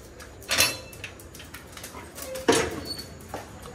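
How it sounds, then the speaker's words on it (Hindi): A female dog barks in short, sharp bursts indoors at night, a couple of louder yaps separated by quieter pauses, with some faint household clatter in the background. "इतना क्यों भौंक रही है"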